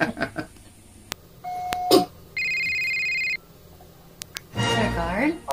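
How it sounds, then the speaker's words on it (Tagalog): Telephone ringing during a prank phone call, an electronic ring tone of about one second heard once in the middle, with brief beeps and a voice around it. "ang gagawin ko, tatawagan kita."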